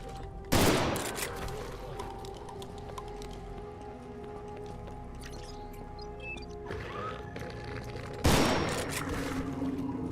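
A shotgun fires in a retro-style horror video game: two loud, sharp blasts about eight seconds apart, each with a decaying boom, over a low, steady ambient drone.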